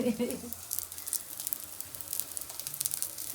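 Potato tikkis frying in a pan, a steady close sizzle with soft crackles and pops, and a voice briefly present at the start.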